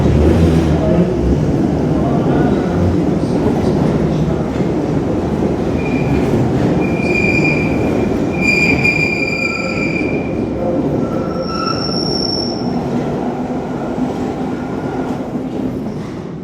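London Underground Bakerloo line train pulling out of Piccadilly Circus station, a loud rumbling roar with piercing high wheel squeals in the middle that fade as it moves off; a voice is faintly audible.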